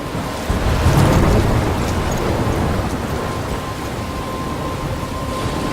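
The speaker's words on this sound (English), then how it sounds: "I'm trapped in a storm?" Storm in the video game Life Is Strange: steady heavy rain hiss with a low rolling thunder rumble swelling early, then fading to a continuous roar and a faint tonal hum.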